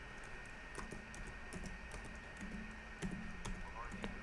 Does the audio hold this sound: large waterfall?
no